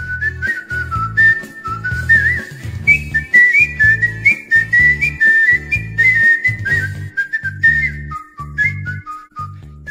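Artistic whistling carries a lilting melody over a rhythmic, bass-heavy accompaniment track, the whistle clear and prominent above the pulsing backing.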